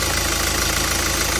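A 2014 Hyundai Santa Fe engine idles evenly at close range, a steady, continuous mechanical hum with no voices over it.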